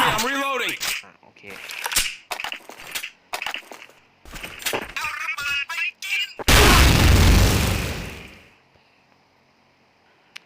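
Gunfire in the video game Counter-Strike: someone talks over scattered shots, then a loud, dense burst of rapid fire lasts about two seconds before the sound drops to near silence.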